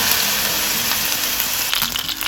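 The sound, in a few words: calamari rings frying in oil in a frying pan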